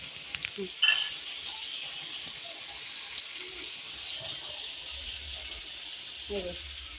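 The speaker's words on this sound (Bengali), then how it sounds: "এদিকে মাছ ভাজা হচ্ছে" Fish fries in a pan in a home kitchen, a faint, steady sizzle heard from a distance, with a few brief knocks and utensil clicks near the start and end.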